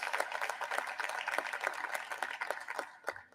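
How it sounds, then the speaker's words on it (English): Applause for the Secretary of Energy at an administration event, fairly faint steady clapping from a crowd, with many claps overlapping throughout. "Another round of applause for the Secretary of Energy."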